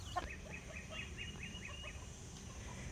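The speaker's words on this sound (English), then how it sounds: "I also wanted to record some of the other chicks." Soft, repeated clucking from a few silkie chicks, quick little calls in an irregular rhythm over low background rumble, fairly close.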